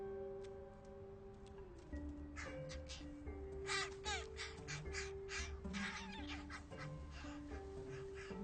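Two-week-old crow nestlings caw and squawk in a rising chorus of harsh, repeated calls, close by and growing denser, over a soft background of sustained music tones.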